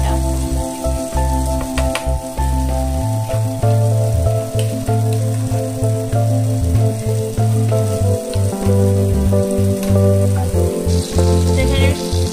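Tomato paste and poppy seed paste fry in a pan for a Bengali vegetarian paneer dish, giving a steady close sizzle with bubbling pops and occasional stirring clinks throughout.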